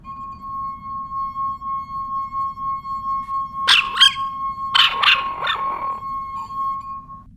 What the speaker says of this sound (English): She kept rubbing the rim of the wine glass,